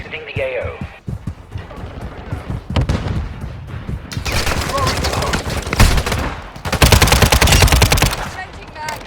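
Sustained gunfire in the mobile shooter Warzone Mobile during a team deathmatch, with scattered shots early and then dense, rapid machine-gun bursts later on. Game voices can be heard calling out between the volleys.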